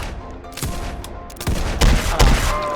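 Rapid gunfire in the Roblox game Dead Rails, loud close bursts of shots cracking in quick succession, growing heavier toward the end.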